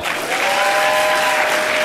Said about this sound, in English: Clap if you want the exciting one.